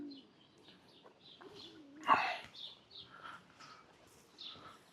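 Pigeons in a garden at Sheki, Azerbaijan, coo softly in low, rolling calls, mixed with faint chirps and a brief flutter-like burst midway, heard quietly at a distance.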